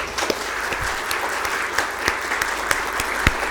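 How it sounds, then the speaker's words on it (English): Audience applause at a keynote lecture, a steady wash of many hands clapping continuously with a few sharper individual claps standing out, sustained throughout. "A round of applause."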